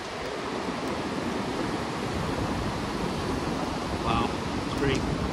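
River rapids rush over rocks in a broad, continuous roar of churning water, heard steadily and fairly loud from an outdoor downhill ride, with a faint voice briefly emerging near the end.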